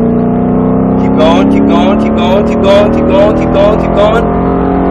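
A Mustang Shelby GT engine revs hard on the track at Speed Vegas, a loud steady in-cabin drone that climbs in pitch, with an instructor talking over it.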